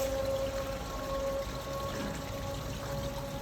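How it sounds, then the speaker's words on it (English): Water rushes steadily from an upper sluice into a lower sluice while a gate stands open, a continuous, fairly faint gushing wash with a faint steady hum underneath and no voices. "Water from upper sluice drains into lower sluice."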